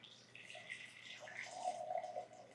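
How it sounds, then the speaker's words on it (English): Hot boiled water is poured into a glass measuring cup, making a steady splashing trickle that fills the short moment at close range. "I have just some hot boiled water here and I'm going to pour about 2 cups into"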